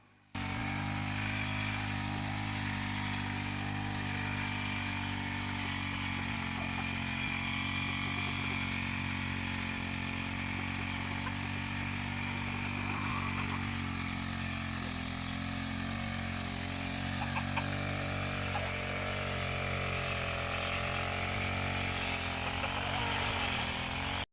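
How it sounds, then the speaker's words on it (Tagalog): Petrol grass cutter running steadily for the whole stretch while trimming tall grass on a field at a gamefowl farm, a continuous loud two-stroke whine with no pauses. "Ito namang extension ng range area ang isusunod na igagrass cutter ni Richard"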